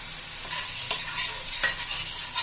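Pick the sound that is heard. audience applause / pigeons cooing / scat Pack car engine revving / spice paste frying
spice paste frying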